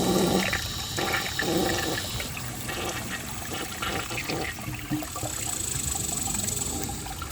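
A blue 1963 American Standard Cadet toilet flushes with a loud rushing surge of water that eases into steady swirling and trickling as the bowl refills.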